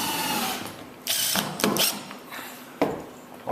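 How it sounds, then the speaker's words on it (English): Fasteners are set on a 22-foot 1953 Shepherd Sportsman boat's ribs with a power tool, which gives loud whirring bursts and mechanical rattles in short, uneven runs, close by. "what RJ is doing now is just placing the fasteners on the ribs so that a whole series of them are ready to be sunk"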